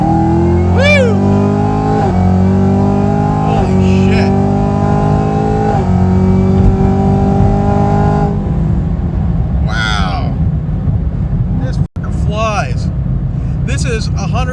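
Turbocharged Chevrolet Camaro ZL1 engine fitted with new headers revs hard and loud up close, with rising and falling pitch sweeps and a sustained roar throughout, and a voice speaks over it.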